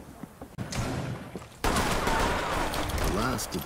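Rapid automatic gunfire bursts in the Rainbow Six tactical shooter game, loud and dense, with a quieter stretch of scattered shots before a sustained close barrage of overlapping rounds.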